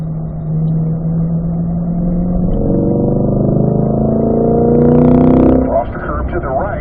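A 2020 Corvette C8 accelerating on a track, its engine note climbing steadily as it pulls through the gears, loud and close inside the cabin, easing at the end, with a driver talking over it.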